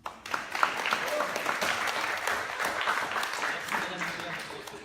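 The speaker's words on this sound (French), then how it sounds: "Je pense qu'on peut l'applaudir" An audience at a public gathering breaks into applause after a mayor is thanked. The clapping swells quickly and holds as a moderate, continuous patter for almost five seconds, with a few voices mixed in.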